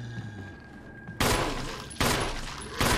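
Gunfire in Resident Evil HD Remaster comes as three loud, sharp blasts about 0.8 seconds apart, each trailing off into a reverberant decay after a quieter opening.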